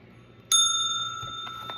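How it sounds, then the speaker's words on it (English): A small bell is struck once, giving a bright ringing tone that rings on and slowly decays, with a couple of soft knocks as it fades. "Let's ring the bell."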